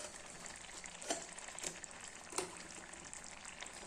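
Boiled elephant yam pieces fry in masala in a pan with a soft, steady sizzle, broken by a few louder crackles and stirring scrapes; quiet and close throughout.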